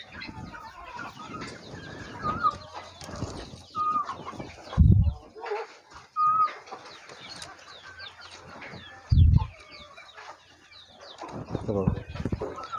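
Hens on a small poultry farm cluck and call in scattered bursts, with a few loud low thumps and bumps close by and brief voices between them.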